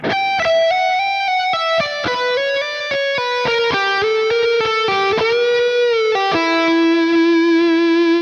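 Slow electric guitar lick in a pentatonic scale, played with heavy distortion and effects: a run of picked notes stepping gradually downward, each clearly attacked, ending on a long sustained note, loud and close with no talking.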